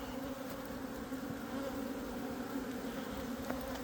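Honeybees hum in an opened beehive, a dense, steady, close buzzing drone with no voices.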